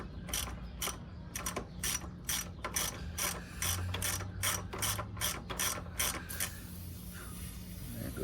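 A ratchet wrench loosens the 14 mm fitting that holds the rear air shock airline on a Honda GL1500 Goldwing. It gives a close, fast run of sharp clicks in bursts, then the clicking stops near the end.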